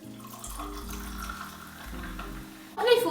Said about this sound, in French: Puis, complète avec du soda.